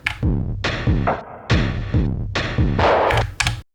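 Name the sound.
drum loop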